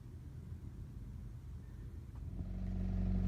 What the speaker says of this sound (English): This could be my last joyride in my little old car.